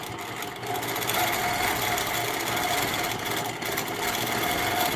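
A longarm quilting machine stitches continuously at a steady rapid rate, its close mechanical buzz and whir unbroken while free-motion quilting holiday gift pieces.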